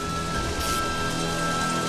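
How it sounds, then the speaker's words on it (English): Torrential rain pours steadily on a surface in Washington, D.C., a dense continuous hiss with no voices. "Throughout the night, there's been torrential rain in Washington, D.C."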